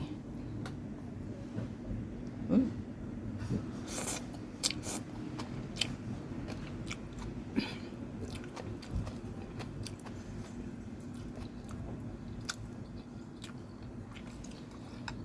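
A person biting and chewing spicy food while tasting it, giving close, soft crunchy chews and clicks scattered through a quiet room with a low steady hum.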